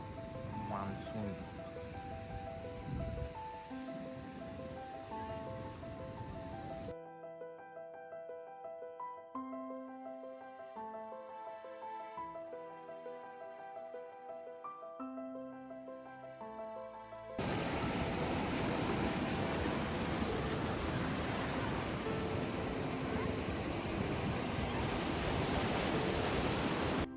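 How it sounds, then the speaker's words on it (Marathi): Big high-tide waves on crowded Kashid beach during the monsoon give a steady, broadband surf roar at the start and end, with a stretch of tonal music in between. "भरती असल्यामुळे आज भरपूर प्रमाणात लाटा इथं येत आहे. खूप मोठ्या मोठ्या लाटा येत आहे."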